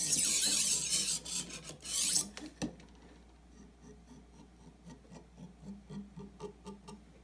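A knife blade drawn across a knife sharpener, a few harsh rasping strokes up close, followed by softer scraping and tapping sounds, with no talk.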